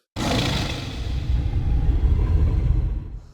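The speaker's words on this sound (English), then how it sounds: "we've got everything from stylized growls like this" A deep, sustained growl with heavy low rumble that swells and holds for about three seconds, loud and close, with no talking.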